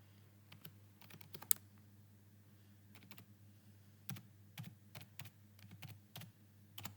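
Quiet computer keyboard typing, a scattering of soft, irregular key taps that cluster into quicker bursts in the second half, over a low steady hum.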